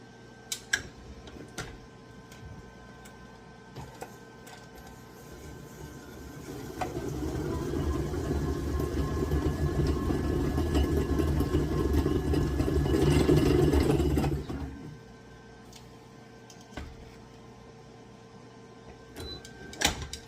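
A big stand mixer churns snickerdoodle cookie dough, its motor rising into a loud, steady mechanical whir for about eight seconds before dropping away, with quieter clicks and handling noises around it and no talking.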